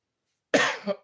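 A single sharp cough from breathing dust after a moment of silence, close and loud, followed by a brief throaty catch.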